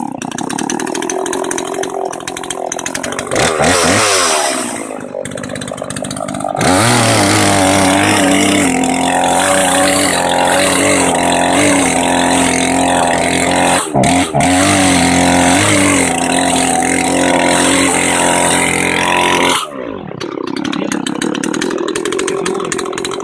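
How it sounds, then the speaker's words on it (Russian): A chainsaw does figure-cutting in wood out in a forest. The loud, close, sustained engine roar changes pitch as the cut progresses, and the saw briefly drops to idle twice before cutting again. "Фигурное пиление от дяди Вити."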